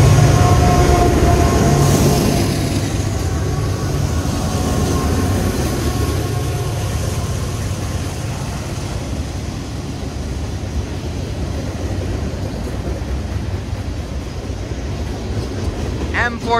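A late CSX M427 freight train from Portland, Maine's Rigby Yard to Selkirk Yard rolls past near the Wells Amtrak station, a loud, steady low rumble with wheel and rail noise that slowly eases over time.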